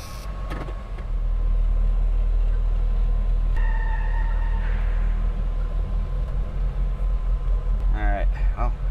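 A 1990s Chrysler SUV engine idles just after starting, a steady close low rumble that holds throughout, with brief higher whines and chirps rising above it toward the end.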